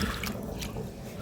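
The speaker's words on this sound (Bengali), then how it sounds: "তো দেখো আমি ধুচ্ছি" Water dripping and splashing as an adenium plant is washed by hand, a soft, steady wet patter close by with no talk.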